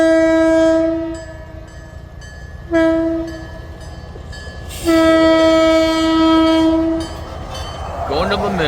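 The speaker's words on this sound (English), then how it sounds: "Going to look for the train, and the train found me." A train horn blasts loud and close in several long, sustained blows while the rumble of rail cars rolls by underneath.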